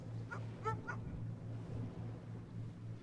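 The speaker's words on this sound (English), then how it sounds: "there's a lot of barking now" A few dogs bark and yip in short bursts at a distance by the Westerschelde waterway in the Netherlands, over a steady low engine hum.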